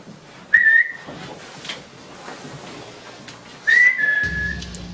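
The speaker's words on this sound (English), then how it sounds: "Did you hear that whistle?" Two clear, sustained whistles sound during a ghost hunt, each a steady high note holding for a second or so, separated by a quiet stretch of faint room noise.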